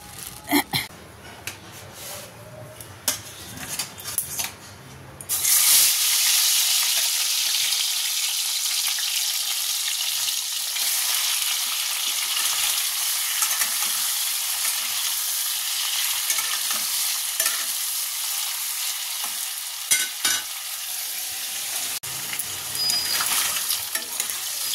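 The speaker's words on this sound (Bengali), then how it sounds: "মাছগুলো ভাজা হয়ে গেছে, এবার তুলে নেব।" Fish pieces fry in hot oil in a pan, a loud, steady sizzle that starts abruptly a few seconds in and crackles on continuously, with a faint voice briefly at the start.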